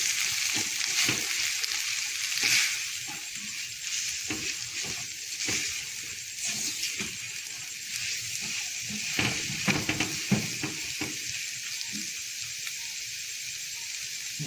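Flour batter stirred in a bowl for chicken bread, a steady soft scraping and swishing with irregular clicks of the utensil against the bowl, close and continuous, with no talking.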